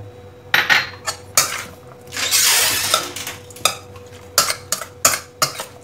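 Spoon stirring anchovy kinilaw in a bowl, a series of clinking scrapes in irregular bursts with one longer swishing stretch in the middle, close and fairly loud with no talk.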